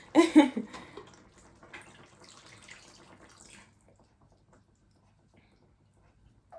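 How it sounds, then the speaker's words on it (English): Water sloshed and shaken inside a jar, then poured out, while making Jamaican-style lasagne; a couple of loud splashy bursts at the start give way to softer trickling and rattling that fades to near silence. "I'm going to go ahead and put some water up to here. And I'm going to shake it all around and pour it in there."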